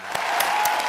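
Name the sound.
applause for a class group presentation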